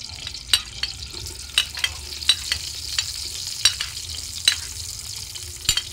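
Pancit noodles being stirred and fried in a pan: a steady background sizzle broken by repeated sharp scrapes and clinks of the utensil against the pan, close and fairly loud, with no talking.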